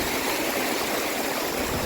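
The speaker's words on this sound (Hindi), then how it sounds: "ये पूरा वाटरफॉल है. इधर से पानी आ रहा है." Waterfall in the Himalayas, a dense, continuous roar of rushing water that fills the scene at steady loudness, close by and alone.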